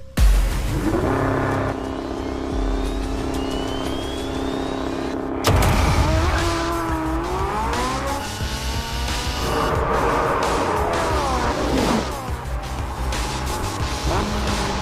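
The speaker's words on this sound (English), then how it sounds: "Next, it was the turn of the Porsche 918." A Porsche 918 supercar runs fast around a race track, its engine note rising and falling through gear changes. The sound is loud and continuous, with a sharper surge partway through.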